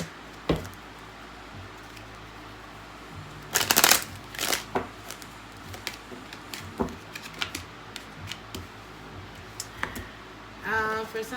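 A Kipper deck of cards being shuffled nearby: soft riffles and taps scattered over several seconds, a loud burst of shuffling in the middle and a quick ripple near the end, with no talk.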